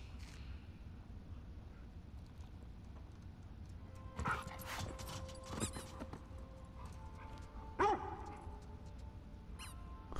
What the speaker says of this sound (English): What is Alice doing barking at it?